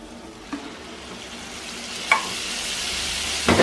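Tomato puree with coriander powder, salt and Kashmiri chilli sizzles and fries in oil, a continuous hiss close by, broken by three scraping stirs of a spoon through the pan.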